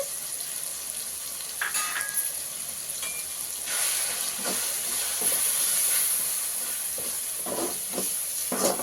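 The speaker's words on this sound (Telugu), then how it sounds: "ఇప్పుడు ఈ ఉప్పు కారాలు వేసేస్తున్నాం కదండి ఇది ఒక రెండు నిమిషాలు వేగినాక" Salt and chili powder frying in a hot pan for salted fish curry, a steady close hiss and sizzle with occasional soft crackles and stirring scrapes, no voices.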